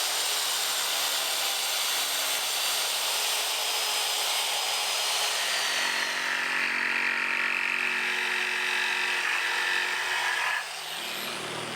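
A power tool whirs steadily and loudly while driving screws into spacers fixed to rails for a cargo rack, the motor holding one continuous pitch before shifting tone and cutting off near the end.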